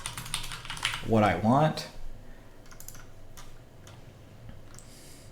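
Light clicks of typing on a computer keyboard, entering a custom option in a scheduling app, come as a few soft, scattered taps after a short burst of speech, faint and close.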